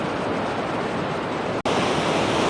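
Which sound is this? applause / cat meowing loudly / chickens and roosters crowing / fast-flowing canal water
fast-flowing canal water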